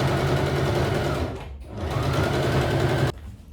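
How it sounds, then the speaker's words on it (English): A sewing machine stitches darts on trouser back pieces, its fast steady motor whir running loud and close, pausing briefly near the middle before resuming and then cutting off at the end. "I'll start by stitching the darts for the back on both back"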